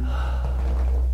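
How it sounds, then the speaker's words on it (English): During a hip flexor stretch on the ground, a person draws in one short, soft breath. It sits over a steady low background hum. "take a breath in"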